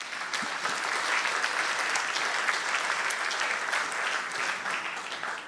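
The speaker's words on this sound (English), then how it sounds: "Round of applause for that." An audience at the Ghana EU Business Forum 2024 breaking into applause, a dense, even wash of clapping that holds steady for several seconds in an indoor venue.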